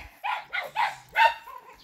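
Four sharp dog barks in quick succession, fairly close and loud, with a brief softer whine at the end.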